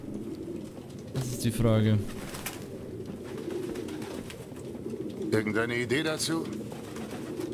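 Pigeons coo in two short bursts from the video game Detroit: Become Human, soft rolling calls heard under someone speaking.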